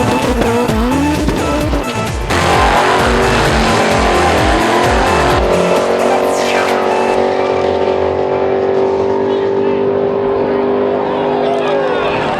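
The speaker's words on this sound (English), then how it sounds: "Let's go check out some race action." Race cars at the 2011 Southeast Face-Off drag racing event in North Carolina roar loudly, with engine revs, tire squeal and a car launching away, while a voice speaks over the din.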